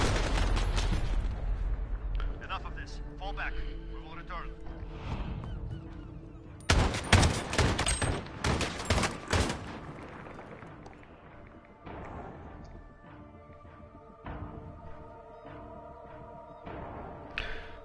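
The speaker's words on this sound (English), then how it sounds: "Taking fire. Where is this like shooting me from, man?" Bursts of video game gunfire from Call of Duty Black Ops 4, a dense loud volley of rapid shots in the middle with scattered thuds and shots before and after, over a steady game background.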